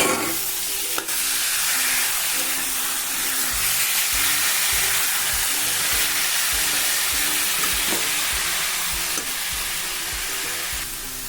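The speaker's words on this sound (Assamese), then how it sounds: "এতিয়া অকণমান লৰাই পেলাই মই কচুখিনি দি দিম।" Boiled taro greens with cumin powder fry in a pan, a dense continuous sizzle broken by regular scraping stirs of the spatula, close and loud with no talking.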